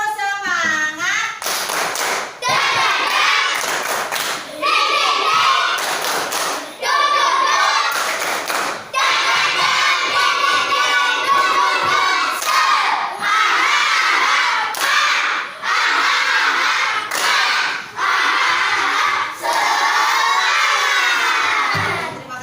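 Classroom of students performing a rhythmic clapping chant, loud and close, with patterned bursts of claps mixed with shouted chanting voices that repeat throughout.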